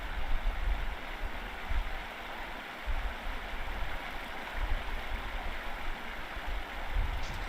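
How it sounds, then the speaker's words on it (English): Loud, constant rushing water fills the scene at the Roman baths in a Sherlock Holmes video game, a broadband roar with no breaks and no talk over it. "Oh, that water's real loud."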